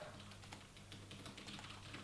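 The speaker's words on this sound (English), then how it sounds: "I'll wait till you're done typing." Steady typing on a computer keyboard, a quick run of light clicky keystrokes close to the microphone, continuous over a low background hum with no talking.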